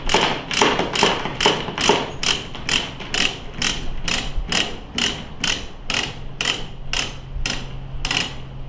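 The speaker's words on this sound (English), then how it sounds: "Now using these ratchet binders, all you gotta do is just tighten them up with your hand first." Ratchet binders tightening chains on a steel coil give a loud, close, evenly spaced run of sharp metallic clicks, about two per second, that continue steadily.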